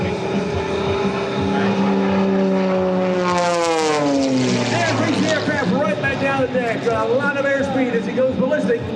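An Extra 330 aerobatic propeller plane flying a torque roll at an air show, its engine droning loudly and steadily, the pitch sweeping and shifting as it rolls, with a commentator talking over it throughout.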